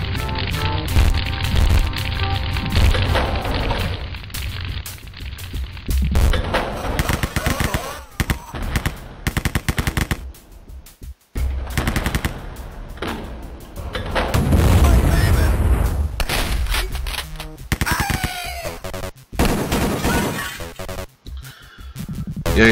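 Retro first-person shooter combat in the vein of Doom, with rapid machine-gun bursts and booming explosions from shot barrels, loud and continuous with brief pauses, a voice talking over parts of it.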